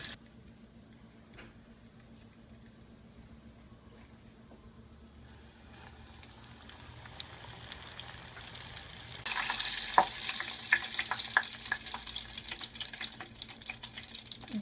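Breaded onion stuffed with cheese frying in hot oil, a soft steady crackle that swells louder about two-thirds through with scattered pops and spatters, close and without voices.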